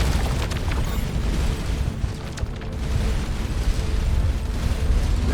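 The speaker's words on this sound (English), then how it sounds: "that explosion was bright" Space explosion in the video game Starcom: Unknown Space, a dense rumbling blast with crackling bursts that stays loud across the whole stretch, dipping briefly midway, with no one speaking.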